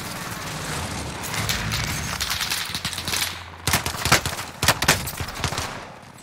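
Pistol shots in Call of Duty on Rebirth Island, with a burst of several sharp, close reports in the second half over a busy background of game action.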